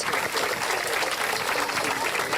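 Crowd clapping at a Friday night Shabbat gathering on a university campus near a protest encampment, dense, steady applause mixed with voices talking over it.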